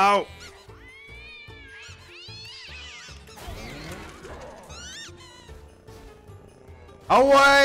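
Cat meowing in the video game Don't Die, Minerva!: several short, rising meows scattered over game music and effects, with a louder, strained yowl near the end.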